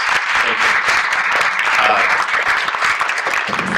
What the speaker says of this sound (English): Can I get a round of applause for their hard work?